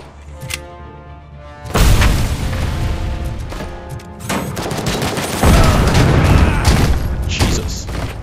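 A grenade blast in the video game RoboCop: Rogue City, a loud booming explosion that hits suddenly and rumbles on, followed by a second heavy burst amid gunfire and mechanical game noise.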